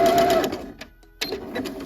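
A sewing machine back stitches fabric in short bursts, stopping briefly and then starting again, close and moderately loud.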